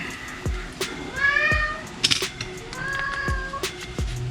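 A cat meows several times in short, insistent calls spaced about a second apart, close by, with faint rustling in between.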